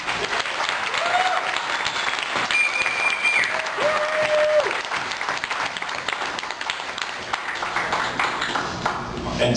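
Wedding reception crowd applauding and cheering for the groom at a best man speech, sustained dense clapping from many guests with whoops and a few bright pinging tones over it, steady and loud throughout.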